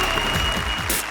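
A studio audience on a televised Indian comedy show breaks into brief, loud clapping, a dense wash of applause with a steady tone running through it.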